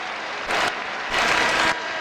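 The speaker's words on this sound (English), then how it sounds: "Crowd gives Mitchell a hand." Crowd applauding in an arena after a professional boxing match, a steady broad wash of clapping that swells in two louder bursts over a constant background roar.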